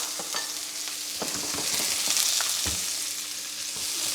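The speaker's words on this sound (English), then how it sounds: "fry them up, along with some of the onion" Steady, loud sizzling of chilies, onion and bell pepper frying in hot oil, with occasional stirring clinks, no talking.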